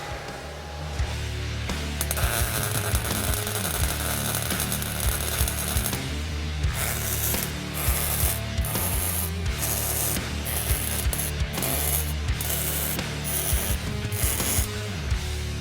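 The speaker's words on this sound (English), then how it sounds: "now I'll just finish plug welding on the inside." Plug welding steel on the inside of a transmission mount in a garage gives repeated crackling, sizzling bursts, each lasting a second or so with short pauses between, close and without speech.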